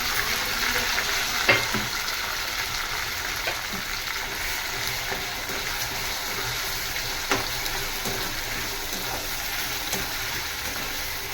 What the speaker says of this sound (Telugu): కొత్తిమీర, ఉల్లిపాయ, పచ్చిమిరపకాయ ఇవన్నీ పేస్ట్ చేసి పెట్టాను కదా, అల్లం చిన్నులపాయ ఇవి మనం నూనెలో వేసుకుంటాం